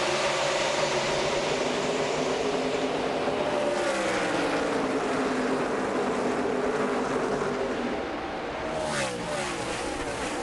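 A field of NASCAR stock cars roars away at the start of a playoff race at Dover, a dense, loud engine drone with rising and passing revs, heard from a distance in the stands' perspective without commentary.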